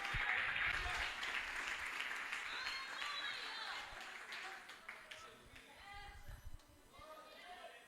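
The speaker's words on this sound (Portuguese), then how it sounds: "Aplaude a Deus" Church congregation clapping during a sermon, a burst of applause that fades into scattered claps, with chatter and voices over it.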